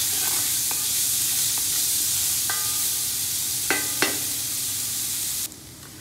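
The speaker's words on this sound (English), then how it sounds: "you want to saute them until they brown" Onions sauté in a pan for a waterblommetjie bredie, a steady close hiss with a few short metallic clinks from a utensil, before the sound cuts off abruptly near the end.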